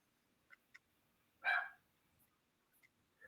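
A single faint dog bark sounds from a distance in a quiet room, preceded and followed by a few tiny clicks and soft knocks.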